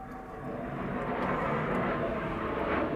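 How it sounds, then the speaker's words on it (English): A jet aircraft passes directly over a house, a steady, broad roar that swells slightly and holds close overhead, with no talking. "there's a jet going over my house"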